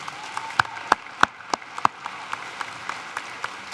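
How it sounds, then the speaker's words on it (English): A commencement audience claps for Sam, a moderate wash of applause with a few sharp, close claps standing out near the start before it settles into a softer, even patter. "How about a round of applause for Sam?"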